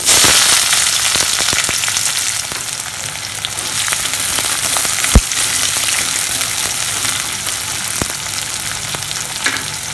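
Onion frying in hot oil together with chana dal and urad dal for egg parotta, a steady close sizzle dotted with sharp pops and crackles, with no talking.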